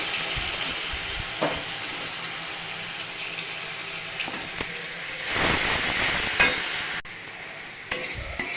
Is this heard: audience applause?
no